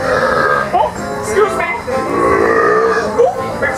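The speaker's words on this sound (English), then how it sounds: "did you burp?" On the Heimlich candy-themed ride at Disney California Adventure, loud, close, drawn-out burps rumble one after another, a croaky belching sound that dominates the scene.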